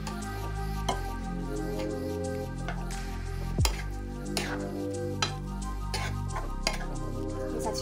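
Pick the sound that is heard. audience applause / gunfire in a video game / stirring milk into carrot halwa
stirring milk into carrot halwa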